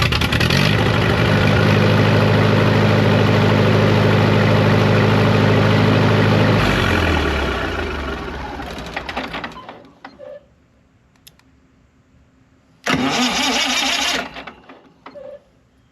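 A Lincoln SA200 welding machine engine runs with a loud, steady idle and then winds down and stops. After a quiet gap, a short burst of engine noise returns.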